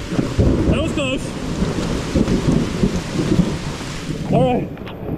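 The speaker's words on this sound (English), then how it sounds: "It is coming a thunderstorm." Heavy, steady rain pours down at a creek falls during a thunderstorm, with rolling thunder rumbling through the downpour, loud and close.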